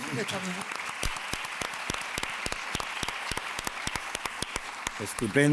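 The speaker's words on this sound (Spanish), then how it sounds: "un aplauso, ¿no?" An audience at a literary talk applauds after a guest says goodbye. The steady clapping runs throughout, with sharp individual claps standing out and a voice speaking briefly at the start and again at the very end.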